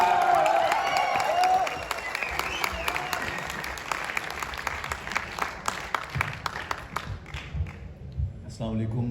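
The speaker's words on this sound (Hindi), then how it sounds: "आप सबकी भरपूर तालियां" Sustained applause from an audience at a poetry gathering, dense and steady throughout, fading toward the end as voices come through over the thinning clapping.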